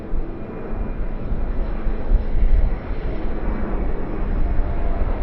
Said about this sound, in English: Jetstar Airbus A320 and Jetstar Airbus A321neo